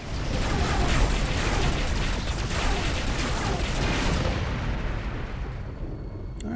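Incoming missiles strike and explode during space combat in Rebel Galaxy, a dense, sustained roar of blasts and rumble that holds loud for several seconds before thinning out.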